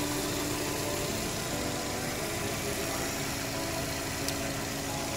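A Subaru Exiga 2.0 engine idles steadily with a constant low hum and faint mechanical whir, recorded close with no breaks in the sound.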